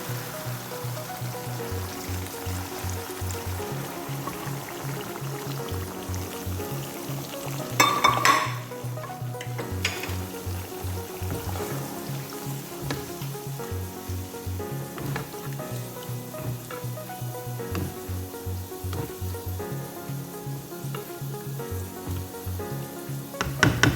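Boneless chicken frying in a pan sizzles steadily, with a louder hissing burst as a little water is added, then a continued busy crackle. Nobody speaks.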